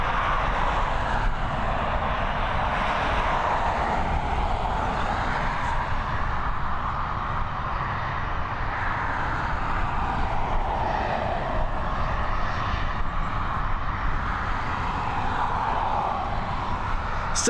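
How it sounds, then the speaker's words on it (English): A Ryanair Boeing 737 taking off from Dublin Airport, its jet engines making a steady, broad roar that holds strong and fairly close for the whole stretch, with no voices over it. "next up, we're gonna have another Boeing 737, another of Ryanair's fleet on departure"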